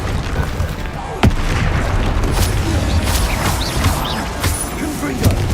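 Confringo spell blasts in Hogwarts Legacy, booming explosive impacts and crashes in a loud, busy fight, with sharp bursts standing out and a voice calling out during the action.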